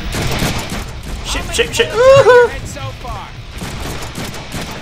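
Rapid bursts of gunfire from the Deadpool video game crackle under ongoing speech, with a louder cluster of shots around the middle of the stretch amid other game effects.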